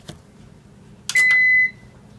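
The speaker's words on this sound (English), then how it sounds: "so there was a little alarm that sounded" A KitchenAid convection countertop oven gives a single high electronic alarm beep for about half a second after a few soft clicks, close and clear in a quiet room.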